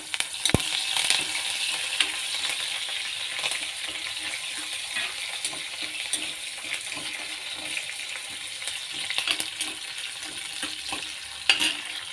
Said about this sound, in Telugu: ఎండుమిర్చి వేస్తా. ఇవి కొంచెం వేగనిచ్చి ఉల్లిగడ్డ, కరివేపాకు వేసుకుందాం.